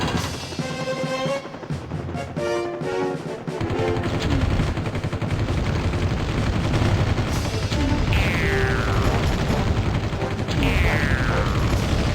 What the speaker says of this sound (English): One heck of a firefight.